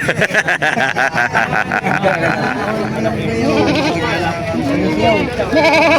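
Goats bleat repeatedly amid a noisy crowd at a goat market in Padre Garcia, with people talking and calling nearby over a busy market din.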